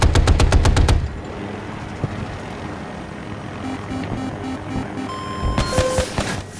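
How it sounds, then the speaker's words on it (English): Incoming gunfire in a Battlefield game: a loud rapid machine-gun burst opens, then quieter battle noise with aircraft engine drone, then another close, heavy burst near the end. "Incoming fire! Right flank!"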